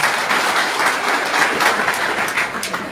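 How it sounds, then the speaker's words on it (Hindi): Applause from an audience at a Hindi-language welcome ceremony for local figures, a steady dense patter of many hands clapping at moderate volume, continuous for about three seconds with no talk over it. "जोरदार ताली इनके लिए ज्यादा लगाना"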